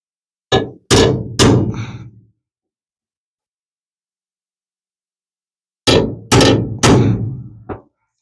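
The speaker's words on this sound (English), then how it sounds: "There goes my punch. Here goes my hammer." Several sharp metallic hammer strikes on a center punch marking a first-generation Pontiac Firebird's shifter console mounting points, clustered in two quick bursts separated by a pause, loud and close.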